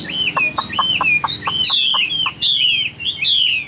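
A caged songbird, about eight months in the cage, calls loudly and close, with rapid repeated whistled notes and rising trills in quick succession.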